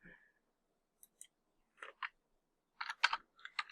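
A few quiet keystrokes on a computer keyboard, isolated taps separated by silence and then a short cluster of quicker clicks near the end.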